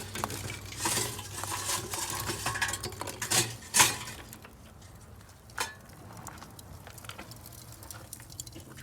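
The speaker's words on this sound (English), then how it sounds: "And we're just gonna dump it in there," Lit Jealous Devil lump charcoal pours from a chimney starter into a Pit Barrel Cooker, a close rush of clattering, tinkling lumps peaking in a couple of loud crashes, then settling into sparse ticks and a soft hiss.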